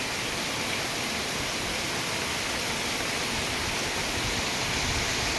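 Heavy downpour of rain falls and pours through broken roof tiles, a dense, steady roaring hiss that fills the whole time without a break or any voices.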